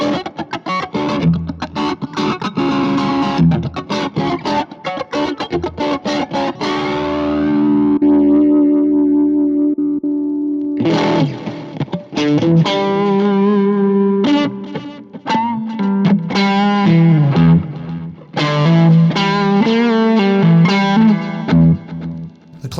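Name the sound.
electric guitar through pedalboard with Boss Blues Driver overdrive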